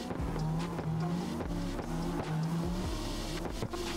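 A continuous harsh, buzzy car engine drone from the racing game CarX Drift Racing Online during an audio glitch, with wavering tones and periodic stutters, sounding distorted and vacuum-like rather than a normal engine roar.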